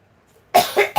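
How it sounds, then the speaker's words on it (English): A person with a bad cold coughs three times in quick succession, close and loud after a moment of silence. "I have a bad cold. I don't always cough like this"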